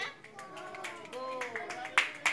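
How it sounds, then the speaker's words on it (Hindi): Children clap their hands in a scattered, uneven rhythm at a preschool session, faint and soft under voices of children and a teacher talking. "तालियां बजाओ तालियां ताली बजाओ ताली"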